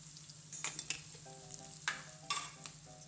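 Vegetables for pulao going into a hot onion tempering, soft crackling sizzle with several sharp clatters and scrapes of a spoon against the pan, quiet and close.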